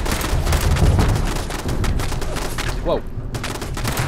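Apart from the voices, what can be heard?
turret gunfire in video game Fallout 76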